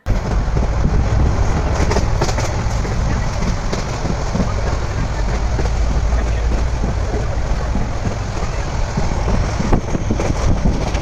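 A moving passenger train leaving Cox's Bazar gives a loud, continuous rumble and roar with steady rattling, heard from on board for the whole stretch.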